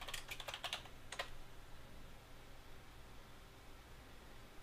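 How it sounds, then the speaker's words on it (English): Quick, light keystrokes on a computer keyboard, a short burst of taps and a brief second flurry, faint and close over a steady hiss with no voices. "In this case, we're going to type in New York."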